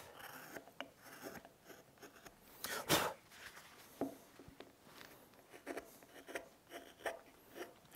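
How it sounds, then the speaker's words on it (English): A V-tool cuts under the hat brim of a carved wooden snowman, giving soft, close, intermittent scratchy strokes, with one louder scrape near the middle and otherwise quiet. "I'm using this side of my V tool to clean underneath the brim of the hat"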